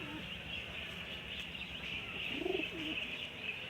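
Racer pigeons cooing nearby: a soft, rolling coo rises midway through over a steady hiss, with faint chirps scattered around it and no speech.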